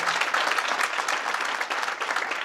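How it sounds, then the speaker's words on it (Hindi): Audience applause fills a hotel hall during a promotions seminar, a dense, steady clatter of many hands clapping together, loud and continuous with no talk over it. "तो मैं चाहूंगा एक बार जोरदार तालियां बजाएं।"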